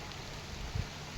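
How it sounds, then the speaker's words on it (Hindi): Heavy rain falls on an open-air chilli nursery as a steady, even hiss of drops, with a faint low thump near the end. "काफ़ी तेज़ बारिश है"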